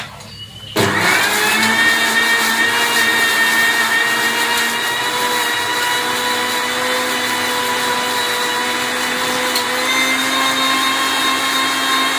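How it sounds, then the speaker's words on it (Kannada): An electric mixer grinder kicks on abruptly and runs for over ten seconds with a loud, steady motor whine while grinding a smooth paste with a little water added. "ಒಂಚೂರು ನೀರು ಹಾಕಿಬಿಟ್ಟು ರುಬ್ತಾ ಇದ್ದೀನಿ."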